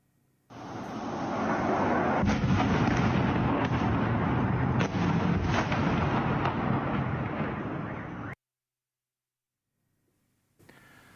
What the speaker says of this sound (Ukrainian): Самовидці поширили відео з гучними вибухами, які місцеві чули впродовж ночі.